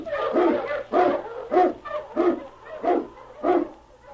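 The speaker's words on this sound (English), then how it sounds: "King, the swiftest, strongest of Eskimo lead dogs, blazes the trail through storm and snow for Sergeant Preston" An Eskimo sled dog, a lead dog, barks on an old-time radio drama: seven evenly spaced, full-throated barks in a steady rhythm, close and clear over a faint low hum.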